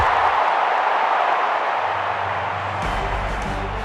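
A capacity postseason stadium crowd in the baseball video game MLB '13 The Show: a dense, steady roar of cheering and applause filling the whole space, loud and continuous, with a low rumble joining near the end.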